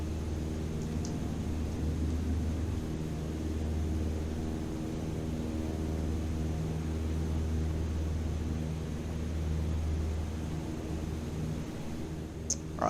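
A small aircraft engine drones steadily through a takeoff climb in Microsoft Flight Simulator, a continuous even hum and rumble with no talk.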